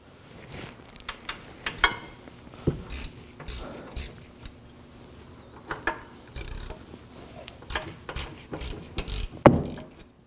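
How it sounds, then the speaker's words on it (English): Ratchet with a 17mm socket loosening the caliper bracket bolts on the rear brakes of a 2014-2020 Acura MDX, giving repeated close clicking bursts with metallic clatter and pauses in between. "To remove the caliper bracket, we're going to use a 17mm socket."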